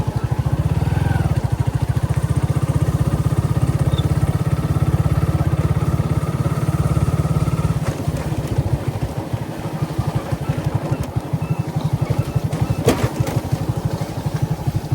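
A new Yamaha R15 motorcycle engine drones steadily while riding off-road toward a farm field in rainy weather, loud and close, with a deep rumble that turns rougher and more uneven midway.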